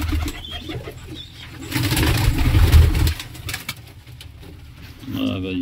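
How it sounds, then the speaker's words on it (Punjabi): Pigeons cooing at a bird market, low throaty coos rising in the middle of the clip amid background chatter and distant traffic. "ਕਬੂਤਰ ਠੀਕ ਹੈ,"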